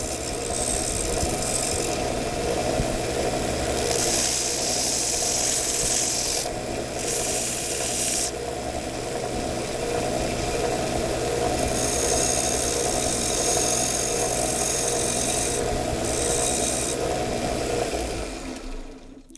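Worn, half-used coarse sandpaper rubbing back and forth on a steel 1911 pistol part, a steady close rasping scrape with brief pauses between strokes, no talking.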